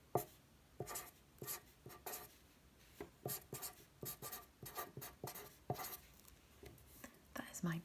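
A pen scratches out the word telephone on paper, close up and quiet, in a series of short separate strokes and taps with brief pauses between letters.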